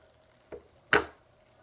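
A knife cuts open an Orbeez-filled stress ball, a faint soft squelch followed by a sharper, louder wet squish, both brief against near silence.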